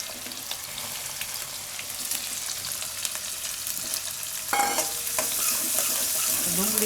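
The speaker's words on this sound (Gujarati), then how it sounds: "ડુંગળીને થોડીક વાર ફેરવી લેવાનું તેલમાં." Onion with green chillies and asafoetida fries in oil while being stirred, a moderate steady sizzle with scraping utensil strokes that gets louder and brighter toward the end.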